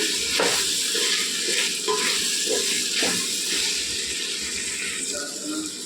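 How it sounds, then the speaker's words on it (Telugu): Tomato pieces stirred and frying in a pan while a vegetable pulao is being cooked, giving a steady sizzle and hiss with soft scraping stir strokes throughout. "రెండు టమాటా ముక్కలు వేసుకోవాలండి రెండు టమాటాలు అండి ఇవి బాగా కలుపుకొని మూత పెట్టి మగ్గించుకోవాలండి"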